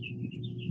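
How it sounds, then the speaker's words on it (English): Birds chirping outdoors, a few thin tweets repeating in quick succession over a low background hum, fairly faint and with no voices. "I hear birds."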